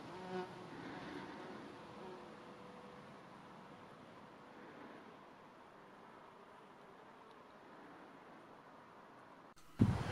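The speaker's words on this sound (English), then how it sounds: "the real bee works a lot harder and moves a lot faster" A bee working flowers on Bodmin Beacon in Cornwall, among climbing corydalis and other vegetation, gives a soft steady insect buzz low in the mix over faint outdoor ambience for most of the span.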